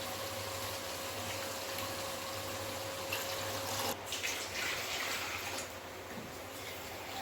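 Steady rushing water poured onto rice in a cooking vessel runs continuously, with a faint clink midway.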